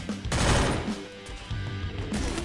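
Free Fire gunfire comes as loud, close bursts of rapid automatic shots separated by a short lull.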